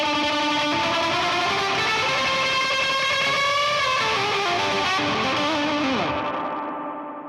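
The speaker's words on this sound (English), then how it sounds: "It's such a killer sound running your reverb into an overdrive pedal, even a fuzz pedal, or just an overdriven amp." Electric guitar with reverb fed into an overdrive pedal gives a splashy, surfy distorted tone, sustained notes and bends ringing out loudly and continuously before fading at the end.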